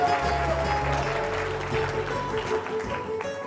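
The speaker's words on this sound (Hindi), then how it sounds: "इनके लिए बहुत सारी तालियां।" Audience applause for a team at a hospital event in Rawalpindi, a steady wash of clapping under a background hum, with faint voices mixed in.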